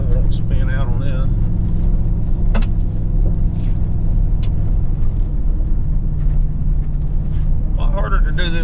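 A Ford 7.3 gas Tremor pickup towing a heavy load in four-wheel drive on gravel, its engine a steady, close, low rumbling drone throughout, with someone talking over it.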